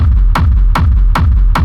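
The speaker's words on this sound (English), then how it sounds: "Quite a heavy pounding kick with a little bit more tail." A heavy, booming sampled kick drum for industrial techno pounds four times at a steady pace, each hit with a short low tail, loud and up front.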